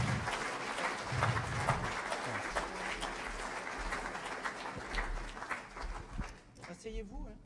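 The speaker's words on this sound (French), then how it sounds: "je pense qu'on peut les applaudir" An audience at a champions' awards evening claps for honorees called onto the stage, producing dense, steady applause that tapers off near the end as a voice comes in.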